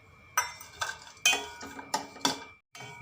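A spoon scrapes and clinks against a pan as dry fruits are roasted with semolina over low heat, five or six distinct stirring strokes in an uneven rhythm, fairly quiet, with no talk.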